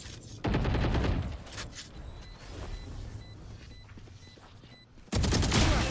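Valorant gunfire erupts in loud, dense bursts at the start and end, with quieter scattered shots and mechanical clicks and high beeps filling the gap between.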